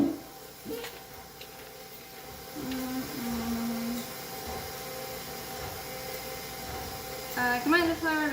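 An electric mixer stirs cake batter in a home kitchen with a steady, moderately loud motor whir. People talk briefly over it near the end.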